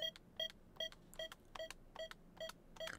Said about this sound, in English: Play the computer beeping sound that it makes when it crashes.